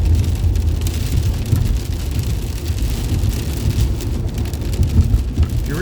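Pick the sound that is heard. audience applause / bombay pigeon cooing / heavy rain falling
heavy rain falling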